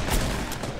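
Gunfire in Fortnite, a quick volley of loud, close shots that fade into a rough, noisy tail.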